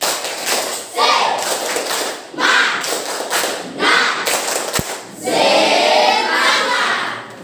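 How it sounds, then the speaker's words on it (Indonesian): A classroom of students stands and performs a rhythmic spirit clap, loud bursts of unison clapping in repeated groups with short pauses between, voices calling along near the end. "Tepuk semangat ya."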